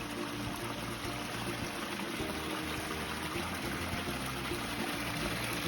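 Small waterfall trickling into an ecosystem pond outdoors, a steady continuous wash of falling water, moderately loud and close, with no voices.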